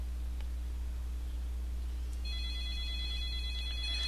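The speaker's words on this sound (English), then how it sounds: "It's actually going to call me." A phone rings with an incoming Google Voice verification call, a steady electronic ringtone starting partway through over a constant low electrical hum, with no talking.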